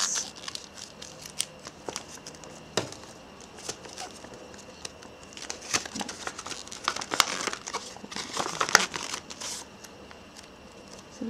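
Paper being folded in half while making a paper bag, giving repeated crisp crinkling and rustling handling sounds close up, with sharper creases toward the end and no talking.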